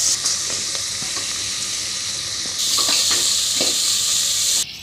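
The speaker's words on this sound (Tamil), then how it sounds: "இப்போ ஒரு தக்காளி கட் பண்ணி போட்டிருக்கேன், அதையும் நல்லா போட்டு வதக்கிக்கோங்க." Chopped tomato and coriander sautéing in a pan for mutton seeraga samba biryani give a steady close sizzle, broken by soft stirring scrapes, and the frying grows louder about halfway through.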